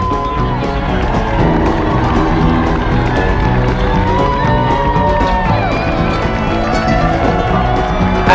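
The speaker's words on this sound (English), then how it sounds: "As you can hear here in the Docklands, the crowd is really intense" Intense crowd cheering along the Docklands course of the London Marathon, a steady roar of voices and clapping close by, with footsteps and some talk mixed in throughout.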